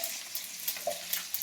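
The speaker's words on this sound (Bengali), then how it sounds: "ক্যাকড়া ভাজার তেলের মধ্যে আমি কি করবো," Panch phoron five-spice seeds crackling in hot oil left from frying crab, a brief burst of close sizzling with small pops and spits.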